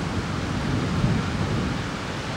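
Thunder rolls through a rainstorm as a dense, continuous low rumble blended with the hiss of steady rain, loud and unbroken for the whole stretch, with no voices.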